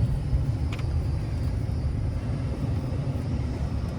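Ram 1500 and Landcruiser 200 engines idle together at the start of a drag race, a steady low rumble close by and alone, with no voices.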